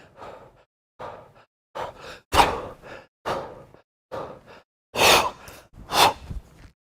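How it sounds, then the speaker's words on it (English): Deliberate, audible breaths taken while resting in the kettlebell rack position, several separate inhale-exhale bursts with pauses between them, close and fairly loud with no talking. "that's the type of breathing technique that I use"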